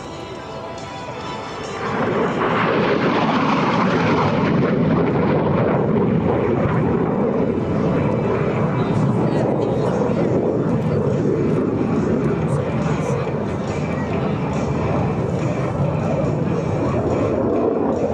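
A MiG-17 jet fighter roars past at about 520 mph during an air show demonstration, a loud sustained rushing thunder that swells quickly and holds steady, with wind buffeting the microphone.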